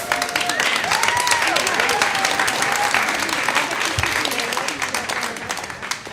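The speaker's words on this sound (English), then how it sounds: "Let's give Ruby a loud round of applause" Audience applause for storyteller Ruby Cooper at a storytelling event, steady dense clapping that holds loud throughout and eases slightly toward the end, with scattered voices and cheers mixed in.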